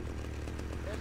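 A chainsaw wielded by the player character in Grand Theft Auto: Vice City, a steady low idling engine drone held throughout the short moment with no pauses, moderately loud under the game's ambient sound.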